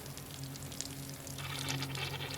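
Water runs from an opened dirty-water valve on a filter at a woodland camp. It makes a soft, continuous hiss and trickle, faint and steady throughout, with no voices.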